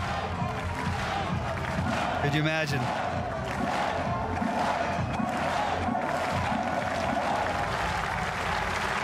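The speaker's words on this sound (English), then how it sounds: "Yes, getting the crowd going." Crowd cheering and applauding at a Red Bull Cliff Diving event on the rocks at Lake Uri in Sisikon, Switzerland, a steady loud roar under a commentator's talk throughout.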